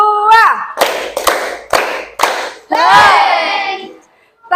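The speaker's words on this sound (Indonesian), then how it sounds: "Tepuk 2." Schoolchildren in a classroom clap in unison, four sharp group claps in steady rhythm after a spoken cue, ending with a loud collective shout from the class.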